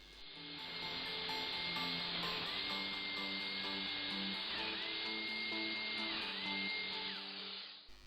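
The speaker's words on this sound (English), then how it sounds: "Now cutting the mortises on the other panels." A power router or mortising tool cuts mortises into wardrobe panels, giving a continuous high whine that holds steady for several seconds with slight pitch dips as the bit works, no talk.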